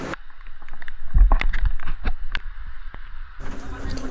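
A kayak is paddled along a river, with a run of close splashes and knocks from the paddle against the hull over a light wash of wind, ending in a louder rush of water.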